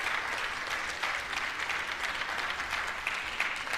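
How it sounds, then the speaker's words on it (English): Light, scattered clapping from an audience in the chamber of Congress, a thin patter of hands that holds steady and fairly soft for a few seconds. "That's really light clapping there."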